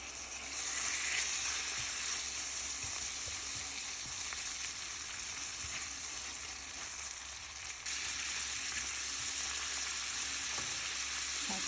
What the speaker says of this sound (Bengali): আমি বাটারটা যখন গরম হয়ে আসবে তখন আমি এখানে চিকেনটা দিয়ে দিব।